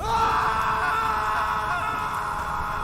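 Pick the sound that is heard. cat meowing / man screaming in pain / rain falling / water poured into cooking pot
man screaming in pain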